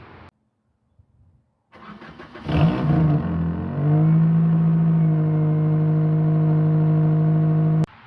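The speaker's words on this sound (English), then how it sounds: "we might as well do the exhaust clip test here right now" A Toyota Matrix XR engine cranks and starts, revs up with a throaty exhaust rumble, then settles into a loud, steady idle close by.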